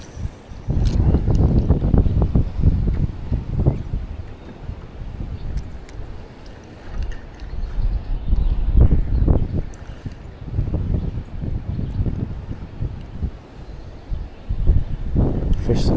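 Gusty wind rumbles against the microphone over shallow water during kayak fishing after a storm, a loud, steady low roar that swells and eases throughout.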